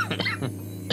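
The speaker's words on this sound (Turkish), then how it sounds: "ne öksürük tuttu bugün beni ya" A man abruptly coughs during a League of Legends match, a few short harsh bursts, close and loud, over a low steady hum.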